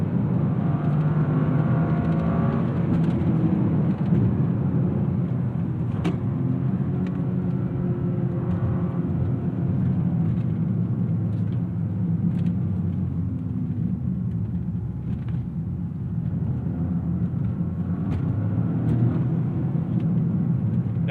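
Toyota GR Corolla engine droning steadily while driving, a continuous low rumble with a faint whine above it, no sharp revving swells standing out.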